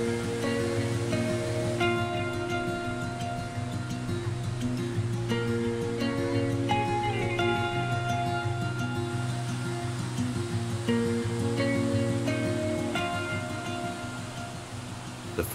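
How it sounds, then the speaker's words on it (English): Sweet Creek and its waterfalls in Oregon, running powerfully in winter with snowmelt and rain, make a steady, full rush of water that holds at an even level throughout. "Being in winter with snow melt and rain, the flow of the creek was a lot more powerful than average."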